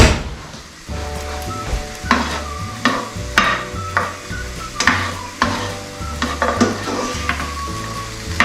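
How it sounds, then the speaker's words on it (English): Carrot and onion frying in a pan, a steady sizzle broken by repeated rhythmic scrapes and knocks of a utensil stirring against the pan, close and fairly loud with no talking. "Once your carrot and onion have been frying for a few minutes"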